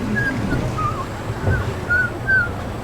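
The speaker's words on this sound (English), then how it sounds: "You really need to practice your whistling, buddy" Someone whistles a few short, thin, wavering notes while waiting at a Legoland Windsor ride, faint and broken up over a low outdoor rumble.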